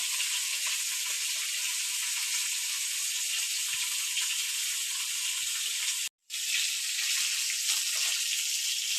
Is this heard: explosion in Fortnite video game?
no